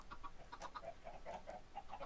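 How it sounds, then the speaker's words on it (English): Chickens clucking in a video game, a run of short repeated calls at moderate level, close and steady with no talk over them. "I hear chickens."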